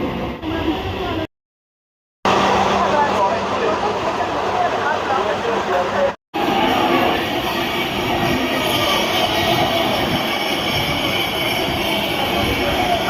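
Naihati local train running, heard from aboard as a steady loud rumble and rattle that carries almost throughout, broken by two short dropouts.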